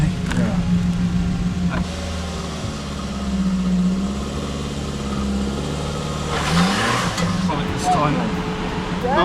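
A cheap, rough-sounding car engine revs hard while stuck on a country lane, rising and falling in strained bursts under voices talking nearby.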